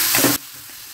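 Cumin seeds and crushed green chili paste sizzle sharply in hot oil in a pan for a moment, a bright crackling burst that cuts off abruptly into quiet.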